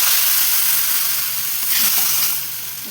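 Hot tempering poured into tomato dal with the stove switched off, giving a broad steady sizzle that swells briefly near the end, then eases off, loud and close with no talk.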